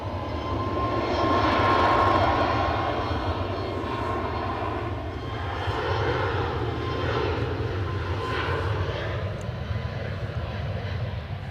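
A fixed-wing airplane's engines roar steadily as it rolls off the runway at Edinburgh airport, a loud, continuous broadband drone that swells slightly and holds for the whole stretch, with no voices over it.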